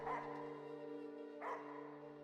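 Dog barking in the horror video game Slitterhead: two short bark-like bursts, one at the start and another about halfway through, over a steady tonal drone that runs the whole time.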